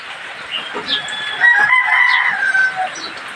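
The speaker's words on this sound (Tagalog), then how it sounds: "May manok na naman pala din." A chicken clucks and crows close by, loud rising calls stretched over a few seconds, with faint background noise beneath.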